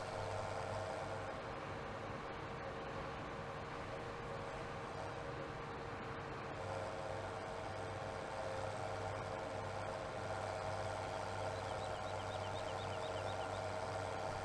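A tractor engine idling in a farming video game, a steady low droning hum with a faint knocking pulse running evenly throughout, moderately quiet with no voices.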